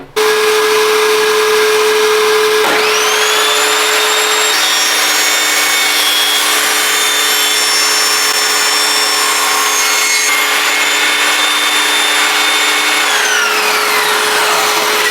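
Budget table saw with a dust extractor running: a steady extractor drone throughout, joined by the loud, sustained whine of the saw spinning up and cutting wood for about ten seconds before winding down, no talking.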